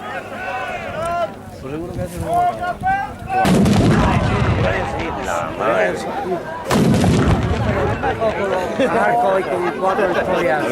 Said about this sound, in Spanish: Se inicia así el combate mediante un duelo artillero